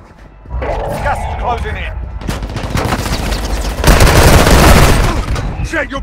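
Loud bursts of automatic gunfire and booming shots in Warzone Mobile, rapid sustained volleys rising to a dense barrage, with voices in the game calling out over it.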